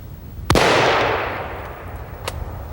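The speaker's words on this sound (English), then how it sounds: "His first shot missed, so he squeezes slowly on his second." A single sharp rifle shot cracks nearby at a bull elk during a hunt, its blast decaying into a long rolling echo, with a fainter distant report about two seconds later.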